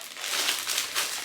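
A thin plastic bag crinkles as a paper guide for a retro game is slid back inside, a soft close rustling lasting about a second with no voices.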